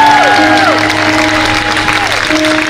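A church congregation applauding, a dense steady clapping throughout that sounds like a large room full of people, with a sustained tone running underneath and some voices mixed in.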